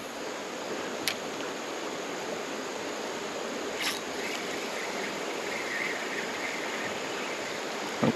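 A creek flows as a steady, soft wash of running water, continuous and fairly faint, with a couple of small clicks and no talking.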